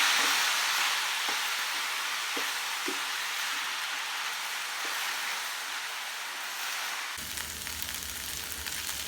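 Brinjal pieces frying in a pan, a steady close sizzle and hiss that runs on evenly and then shifts to a rougher, lower bubbling toward the end.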